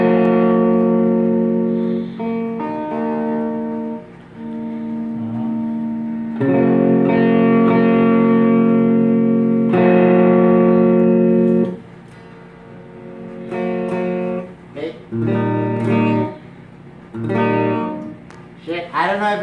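A Tony Smith electric guitar plays sustained, buzzy chords and notes through an amplifier, loud and ringing, with pauses between phrases and a few plucked bursts near the end.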